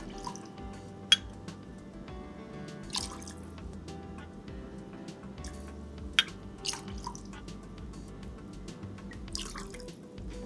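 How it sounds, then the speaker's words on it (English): Store-bought grapefruit soda being poured into a Paloma cocktail, a soft continuous fizzing trickle with scattered drips and small clinks, close and quiet. "now we're going to add 4 ounces of our store-bought grapefruit soda."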